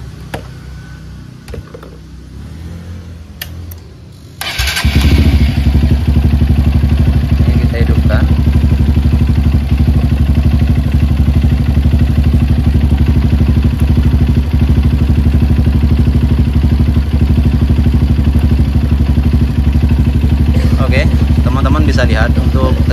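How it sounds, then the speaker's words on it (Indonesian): A Honda CRF motorcycle with a charging fault starts up, then its engine idles loudly and steadily for about twenty seconds, a close, even mechanical rumble with light clatter. "Kita coba nyalakan motornya,"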